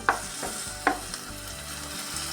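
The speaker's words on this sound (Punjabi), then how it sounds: "ਹੁਣ ਅਸੀਂ ਇਹਦੇ ਵਿੱਚ ਦੋ ਟਮਾਟਰ ਲਏ ਨੇ ਟਮਾਟਰਾਂ ਨੂੰ ਪਾ ਦਾਂਗੇ" Chopped tomatoes go into a pan of frying onions and garlic, giving a steady close sizzle broken by a couple of sharp clatters from a spoon stirring, with no talking.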